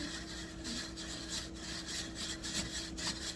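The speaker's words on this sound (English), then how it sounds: "Take my burnishing tool, go ahead and burnish it." A burnishing tool rubs back and forth over the thread wrap on a fishing rod, a steady scratchy rubbing with a low hum underneath, close and continuous.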